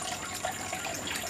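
Water flows through a 25 mm aquaponics bell siphon fed by a very tiny pump, a steady close trickling and gurgle with no voices.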